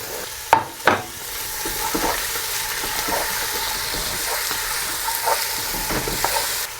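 Chopped tomatoes land in a hot pan for a fish curry and fry with a crackling sizzle, opening with a couple of loud stirring clatters and settling into a steady hiss marked by sporadic scrapes.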